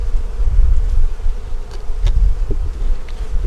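Honeybees hum around an open hive frame during an inspection, a steady low drone that continues without a break under occasional small knocks.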